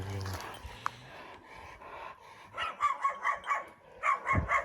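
A dog barks in a run of sharp, close bursts, with people's voices around it and breathy panting sounds in between.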